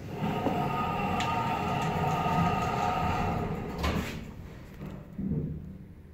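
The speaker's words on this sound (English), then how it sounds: "Doors closing." Doors of a 2002 Stannah platform lift at a railway station closing, a steady mechanical rumble with a sliding thud near the end, then a quieter hum as the noise fades.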